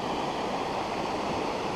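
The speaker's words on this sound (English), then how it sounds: "So if you want to know what river makes that beautiful Burney Falls, here it is." The river that feeds Burney Falls, a waterfall of roughly 300 feet, rushes past below a bridge in a continuous, loud, broadband roar with no talking over it.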